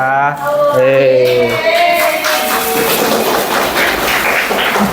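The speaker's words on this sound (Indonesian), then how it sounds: "Oh, tepuk tangan." Classroom applause for a quiz participant comes in after a short bit of speech and continues as brisk, fairly loud clapping.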